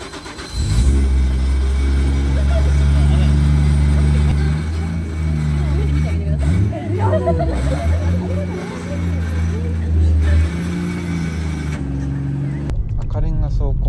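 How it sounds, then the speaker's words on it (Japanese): A Toyota Chaser's engine starts and drives past a red-brick warehouse, a loud steady mid-pitched drone with rising revs throughout, with people talking over it before it cuts off near the end. "赤レンガ倉庫前をチェイサーで走ってみよう。"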